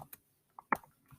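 A few sparse keystrokes on a computer keyboard click nearby, one louder tap standing out among quiet, irregular presses, with no voices.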